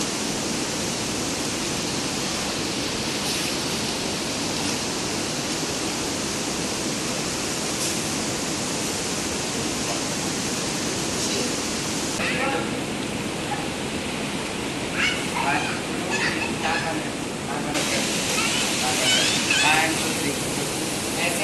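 Hot spring water pouring steadily at the Yamunotri bathing spot early in the morning, a loud continuous broadband rush that swells slightly toward the end, with a voice speaking faintly beneath it.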